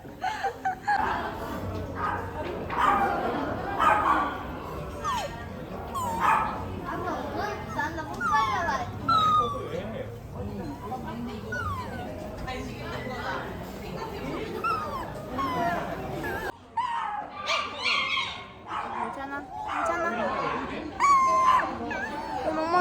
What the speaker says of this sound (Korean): 애들 이 엄청 짖지?